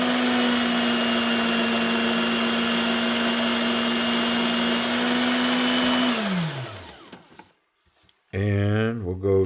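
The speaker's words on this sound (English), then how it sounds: "Just taking the tiniest little scratches out of that blade surface now." Steady droning motor of a buffing or polishing machine working fine scratches out of a Kizer Matanzas knife blade, loud and continuous, then winding down to a stop before a brief burst of louder noise near the end.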